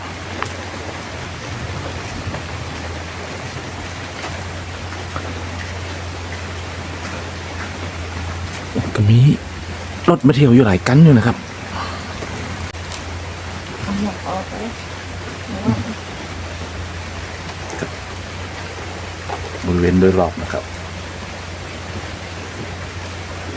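Steady rain hisses evenly over the grounds of a Thai hillside temple, Wat Phra That Umong Sila Banphot, while someone speaks in brief stretches over it.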